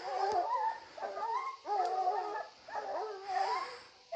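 Hunting hounds whining and yipping on a bear trail during a camping hunt, several close, loud, wavering whimpers and short howls repeating in bursts, with no talk.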